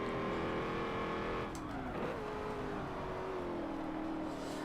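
An 800hp GMC Vandura van runs a warm-up lap in Forza 7, its engine droning steadily before a quick shift and dip, then climbing again at a moderate, even level with no talk.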